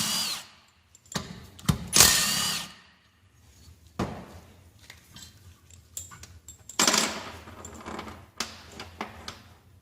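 Power tool loosening the cylinder head bolts on a 45-year-old engine during teardown: several short, loud whirring bursts of a few seconds each with quieter clunks and gaps between them.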